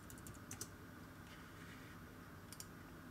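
Quick, light keystrokes on a computer keyboard, a couple of short bursts of tapping heard close and quiet in an otherwise still room.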